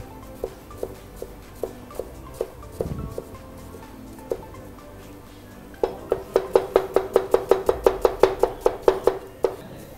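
A knife chops an onion finely on a cutting board, starting with spaced single knocks, then breaking into a quick, even run of sharp, close taps, with no talking over it.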